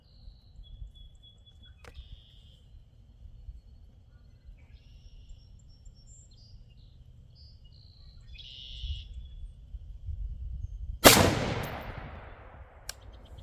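A single sharp .308 Winchester rifle shot firing Federal Gold Medal Match ammunition cracks loudly near the end with a decaying echo, after a long quiet stretch with faint background and distant birds.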